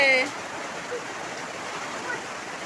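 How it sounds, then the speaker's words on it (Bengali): Heavy rain falls inside a house, a continuous dense patter and hiss of water at steady, moderate loudness, with a brief louder rush at the very start. "ঘরের মধ্যে অনেক জায়গায় বৃষ্টি হচ্ছে খুব জোরে বৃষ্টি নেমেছে"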